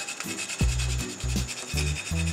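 Nutmeg is rasped against a grater over a creamy Jamaican brandy Christmas cocktail, making a series of close, rhythmic scraping strokes, about five passes in quick succession.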